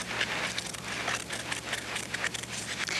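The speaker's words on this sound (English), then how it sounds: "I take my small scissors, and I start cutting, and I cut around the design." Small scissors cut around a design in fabric, producing quiet, rapid crisp snips and crinkly rustles in a close, continuous series.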